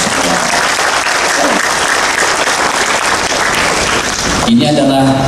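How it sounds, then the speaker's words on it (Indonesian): Loud, sustained applause from an audience at a children's symphony concert in Palembang, dense steady clapping filling the hall before it cuts to a brief different sound at the end. "Untuk itu kita kasih aplaus dan beri apresiasi buat mereka."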